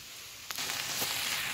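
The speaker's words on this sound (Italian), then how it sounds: "Facciamo tostare brevemente il riso insieme con lo sparagi" Rice toasting in a pan with asparagus gives a soft, faint sizzle, with a couple of brief stir bursts as the grains are moved.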